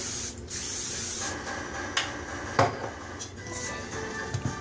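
A hissing spray of cooking oil from an aerosol can onto a hot grill in short bursts, with a few light clicks and clatters of utensils in between.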